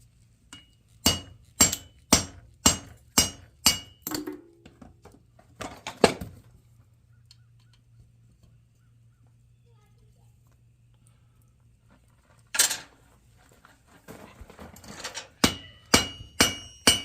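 A hammer rings on hot steel, forging a flat spot on a candle holder: a quick run of about seven evenly spaced, sharp metallic strikes, a long quiet pause, then another burst of blows near the end.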